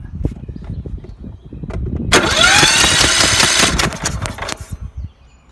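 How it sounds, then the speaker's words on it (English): A Toro lawn tractor engine cranks over on its starter during a spark check, a dense mechanical whirring burst of about two and a half seconds that is loud and close and then stops. "we'll just see if there's any spark when we crank it over"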